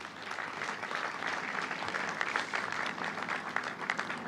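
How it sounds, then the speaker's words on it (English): Steady applause from a large crowd at a veterans memorial and museum opening ceremony, a continuous dense patter of many hands at even loudness, heard somewhat at a distance. "Let's give them a big round of applause"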